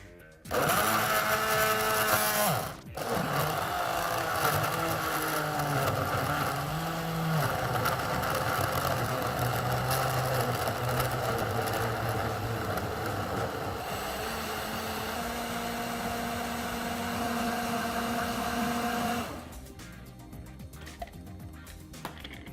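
A Tefal Click&Taste blender blending vegetables with water runs loudly and steadily for most of the clip, its motor pitch shifting as it churns, then cuts off near the end.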